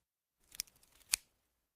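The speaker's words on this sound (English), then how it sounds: "I cut the yellow leaf off" Small garden scissors snip a yellow leaf from an indoor plant, two crisp, close metallic clicks about half a second apart, quiet and alone.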